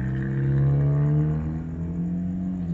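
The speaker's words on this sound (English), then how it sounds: "People that have those kind of cars that sound like a fart when you take off." A small car with a raspy, fart-like exhaust revs hard and pulls away, giving a loud, steady droning engine note whose pitch rises and then eases, with no voices over it.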